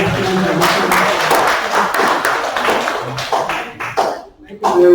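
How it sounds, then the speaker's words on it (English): An audience at a health research meeting gives a loud, close round of clapping with distinct individual claps, tapering off and stopping near the end. "So please can we give Prof. a round of applause?"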